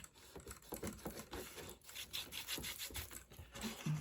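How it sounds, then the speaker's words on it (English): Glued wood inside a cracker box is burnished with a quick back-and-forth rubbing stroke, rhythmic scraping passes close by at moderate volume, without talking. "See here that I'm burnishing inside there"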